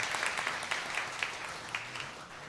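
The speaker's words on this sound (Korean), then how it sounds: "우리 박수 한번 해드리겠습니다." A church congregation at Sunday worship gives a brief round of applause for a member returning from Saudi Arabia. The clapping is steady and somewhat distant, with no voice over it.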